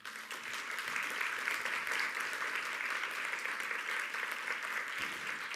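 An audience at a book presentation on multicultural education in Puerto Rico bursts into sustained, dense applause, steady and moderately distant, with faint voices beneath.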